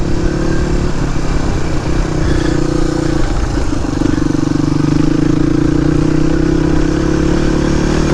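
Suzuki DR250S motorcycle with a Dominator R exhaust, the single-cylinder engine thumping steadily and loudly up close at a constant pace while riding, with some mechanical clatter and no pauses.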